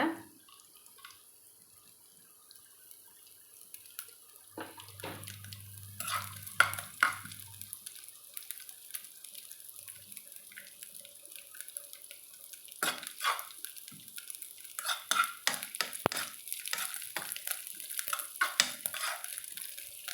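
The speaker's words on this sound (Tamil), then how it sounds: "இப்போ அதை நம்ம நெய்யில் போட்டு வறுத்துக்கலாங்க" Coconut pieces roasting in ghee for a sweet milk offering, a faint sizzle with scattered stirring scrapes and occasional utensil clinks, quiet and close with no talking.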